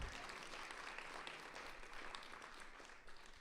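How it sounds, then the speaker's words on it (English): An audience at a symposium applauds the panelists, with a brief, faint burst of steady clapping from a room full of people that fades toward the end. "Let's give each and every one of our panelists a big round of applause."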